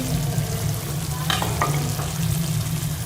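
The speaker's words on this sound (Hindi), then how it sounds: "अपने अंडों को अच्छे से इसमें शामिल कर लेंगे" Eggs being stirred into fried masala in a pan for anda katli, a steady close sizzle with a few quick spatula scrapes in the middle.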